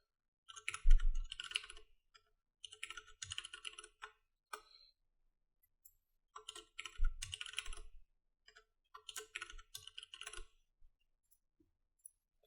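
Bursts of close keyboard typing on a computer, quick clattering keystrokes in several short runs separated by pauses, entering a username and password for a website sign-up, with no talking.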